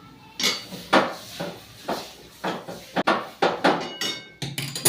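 A spoon clanks and scrapes in a metal bowl while besan dough is mixed with coriander, giving a steady series of close, sharp knocks and scrapes in an irregular rhythm.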